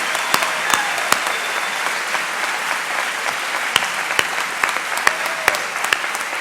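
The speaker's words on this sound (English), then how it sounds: "Let's give them a big round of applause." An audience at a high school graduation ceremony applauds, a dense, steady clapping from a large crowd with a few sharper claps standing out, with no voices on top.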